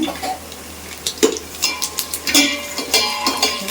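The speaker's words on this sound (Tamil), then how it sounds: "கடுகு நல்லா பொரியட்டும் பொரிஞ்சால் தான் நல்லாயிருக்கும்" Mustard seeds splutter in hot oil in a pan for a koduva fish curry, a series of sharp crackles and pops in quick irregular bursts over a quiet sizzle.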